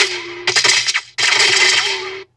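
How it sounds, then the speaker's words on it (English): Two gunshot ricochet effects made for a sci-fi short: sharp close cracks, each trailing into a whining, gliding zing, separated by a brief silence. "here's with all the ricochet sound effects."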